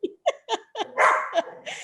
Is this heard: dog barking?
yes